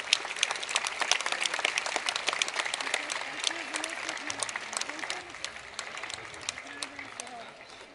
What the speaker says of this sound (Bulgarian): Аплодисменти за госпожа Амелия Гешева